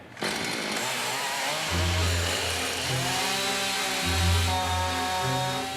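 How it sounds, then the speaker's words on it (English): A chainsaw cuts up timber floorboards with a loud, sustained engine whine that rises and falls in pitch as the chain bites into the wood, close by and heard alone. "I've never actually cut a floor up like this before"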